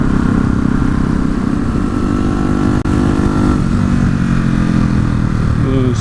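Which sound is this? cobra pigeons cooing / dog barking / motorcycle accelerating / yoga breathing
motorcycle accelerating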